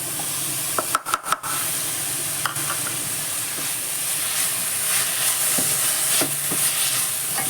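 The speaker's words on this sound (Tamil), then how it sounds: "இது ஒரு 5 நிமிஷம் வதங்கட்டும் ஃப்ரெண்ட்ஸ்." Greens sautéing with cumin and grated coconut in a pan give off a steady close sizzle and hiss, with a few sharp stirring clacks near the start.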